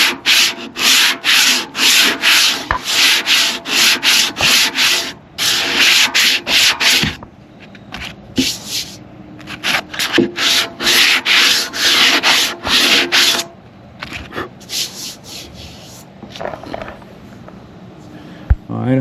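Hand sanding metal on a motorcycle build with 80 grit sandpaper, loud rhythmic back-and-forth scraping strokes in quick bursts, pausing briefly, then resuming more lightly, close to the microphone.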